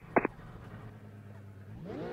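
Car engine in a sim racing game, a steady muffled drone running throughout, with a brief louder burst near the start and a rising rev toward the end.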